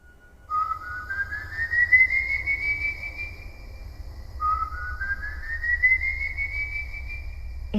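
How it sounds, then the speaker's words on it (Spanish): Eerie whistle of El Silbón, the legendary ghost of horror tales, rising in pitch as two long, drawn-out notes over a low windy rumble, clear and alone. "El silbido siguió repitiéndose."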